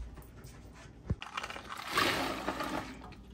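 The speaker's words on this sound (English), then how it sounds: "Adding the beans." Beans for a ham and bean soup tumble into a pot with a short, sharp thud and then a longer wet, rattling pour and splash. The sound is close and fairly quiet, with no voices.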